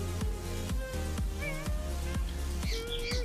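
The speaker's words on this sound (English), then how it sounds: "And I think I just heard the birds chirping." Brief high chirps from birds sound over a steady rhythmic beat with pulsing low thumps.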